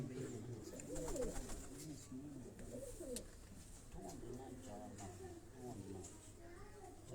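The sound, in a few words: Imamdeen breed pigeon cooing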